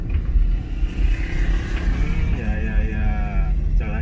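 A 1962 Chevrolet Impala engine idling along at low RPM in second gear, a steady low rumble inside the cabin with people talking over it.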